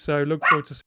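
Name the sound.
dog barking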